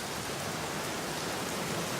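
Steady rain in the video game The Black Mirror, a dense even hiss of falling drops that fills the whole stretch without pause.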